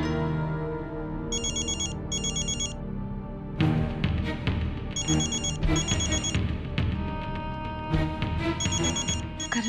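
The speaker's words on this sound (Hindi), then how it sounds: "घर से फोन है।" A telephone ringing in a Hindi TV drama scene, bursts of bright electronic ringtone repeating in pairs over background music, fairly close and clear with no talk.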